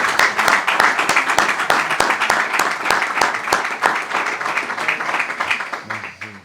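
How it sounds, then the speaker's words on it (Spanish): An audience at a tribute talk breaks into applause, many hands clapping briskly and close with sharp individual claps standing out, tapering off as a voice starts at the end. "Un aplauso, ¿no?"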